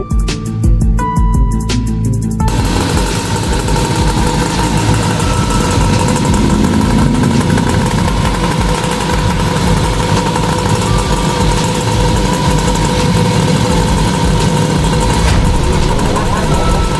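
A motorcycle engine runs in an Indonesian school-themed animated film, a loud, steady droning rumble that holds unbroken throughout after a brief burst of other sound at the start.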